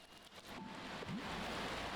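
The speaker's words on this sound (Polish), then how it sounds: "tak, deszcz. To jest taka rzecz, która czasem się zdarza." Rain in the video game Until Then falls as a soft, steady hiss that builds slightly and then holds evenly, faint and continuous with no voices.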